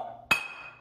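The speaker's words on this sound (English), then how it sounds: "These guys found a really bouncy glass bottle." A glass bottle strikes a hard surface with one sharp, bright clink, then rings briefly with a thin metallic tone that fades out quickly over a low background hum.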